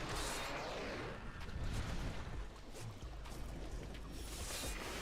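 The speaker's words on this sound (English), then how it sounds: "Did I dodge that explosion?" Loud, dense blast and rumble from an explosion in Diablo 3 during Season 25 monk play, a continuous roar filling the whole stretch with bursts of crackle, no talk.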